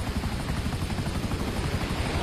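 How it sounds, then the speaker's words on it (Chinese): A helicopter flies in a video game, a steady loud rotor drone with a dense low-end throb that holds evenly throughout, with no talk. "大河，你这个你不能把飞机当潜水艇开啊。"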